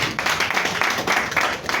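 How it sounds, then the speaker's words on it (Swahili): Audience applause at the ETA Awards Kenya 2023 unveiling event, a steady wash of clapping from a crowd that fills the short moment at moderate loudness, with no talk over it. "Tuwapigie makofi tafadhali."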